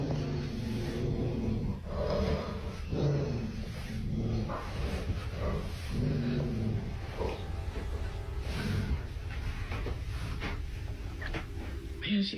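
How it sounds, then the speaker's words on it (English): Josie the dog barks and growls from upstairs inside a house, an irregular run of barks under steady talking nearby. "You can really hear her barking from here."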